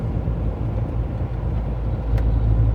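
A semi tractor truck driving at night on a slick winter road, a continuous low engine drone and road rumble heard from inside the cab, steady and close, with a brief faint click near the end.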